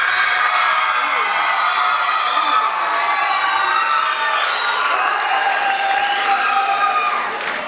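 Audience applause and cheering at a school debate, dense sustained clapping with high whoops and shouts from a large crowd, loud and continuous throughout.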